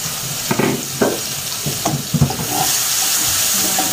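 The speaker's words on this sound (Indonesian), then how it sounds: "kita naikkan minyak 2-3 sendok makan, lalu kita tumis bumbunya dulu sampai harum ya" Spice paste fries in two to three tablespoons of hot oil in a pan, giving a steady close sizzle broken by a few stirring knocks and scrapes.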